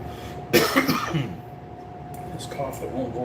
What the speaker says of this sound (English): This cough that won't go away.